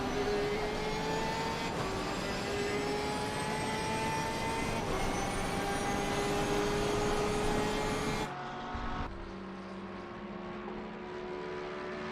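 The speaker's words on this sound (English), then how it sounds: "Paul Venter's got some good speed on that big AMG Mercedes-Benz. And off they go through the first chicane." Race cars, among them a big AMG Mercedes-Benz, scream through a chicane in a sprint series race, a loud sustained engine whine that holds steady before dropping abruptly to a lower, quieter drone, with no voices over it.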